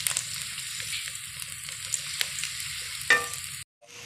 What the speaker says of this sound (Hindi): इसको भी मैंने फ्राई करना है अच्छे से।